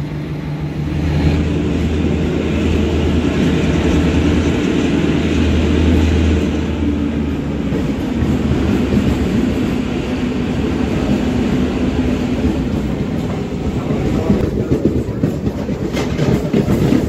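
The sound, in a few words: train running on the rails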